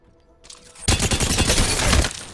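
Automatic gunfire from a weapon in the video game Apex Legends erupts after a brief buildup, a loud sustained burst of rapid shots lasting over a second with no talking.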